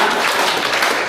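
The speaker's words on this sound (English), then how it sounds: "whenever I say clapping, we have to do the clapping exercise" A seminar audience claps together as a group exercise, producing a dense, loud wash of hand claps that runs continuously for about a second.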